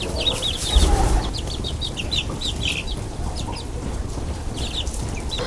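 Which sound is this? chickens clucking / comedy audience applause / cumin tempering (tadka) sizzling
chickens clucking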